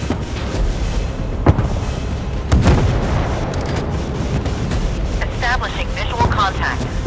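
Naval gun salvos in the Force of Warships game, a couple of sharp booming shots over a constant rumbling battle bed, with synthetic game voice callouts speaking over the action.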